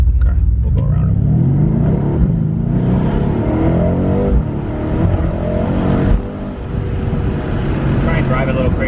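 A Mercedes AMG car accelerates to overtake, its engine a loud, rising roar heard from inside the cabin, with people talking over it throughout.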